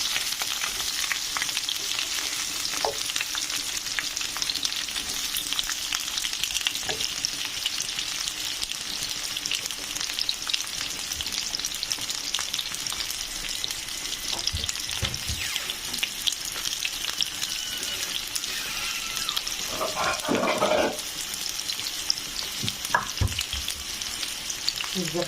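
New potatoes frying in a pan, a dense continuous sizzle held close and loud throughout, with a few brief knocks and a short watery splash near the end.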